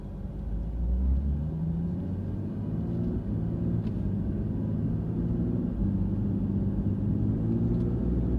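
A car drives after an engine oil change while its engine hesitates on acceleration, giving a steady low rumble of engine and road noise heard from inside the cabin.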